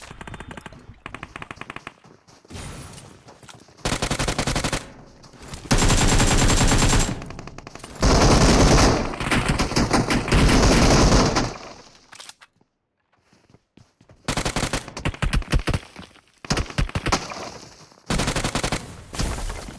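Loud bursts of automatic rifle and submachine gun fire from an AK and UMP in PUBG Mobile, coming in rapid clusters separated by short quiet gaps, with no talking.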